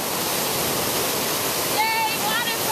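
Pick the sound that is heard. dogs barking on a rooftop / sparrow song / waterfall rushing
waterfall rushing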